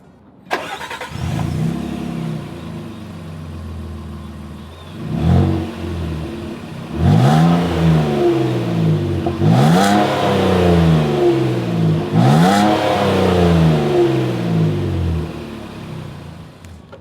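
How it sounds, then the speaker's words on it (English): A 2026 Nissan Frontier PRO-4X engine starts, then revs repeatedly through its exhaust, with four or five loud, rising blips between a steady idle, heard close up with no talking. "As always, here is that exhaust clip."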